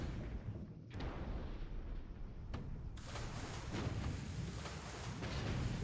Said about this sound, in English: Ooh, internal explosion.